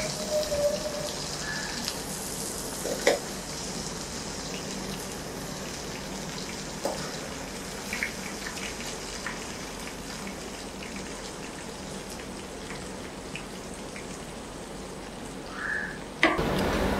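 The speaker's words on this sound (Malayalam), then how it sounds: "നമ്മുടെ എണ്ണ ചൂടായിട്ടുണ്ട്. അപ്പോൾ നമുക്കിതൊന്ന് ഡീപ്പ് ഫ്രൈ ചെയ്തെടുക്കാം കേട്ടോ." Jackfruit pieces deep frying in hot oil on a kitchen stove give off a steady, dense crackling sizzle like light rain, with a few sharper pops and clicks scattered through.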